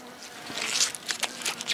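Honey bees leave a hive entrance during an early spring inspection, a close, wavering buzz of several bees with small bumps and handling noises.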